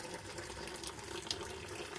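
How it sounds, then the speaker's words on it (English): Water poured off a pot of cooked potatoes for cottage pie, a steady close splashing stream running without pause, with no talk over it. "So I'm draining off this much water"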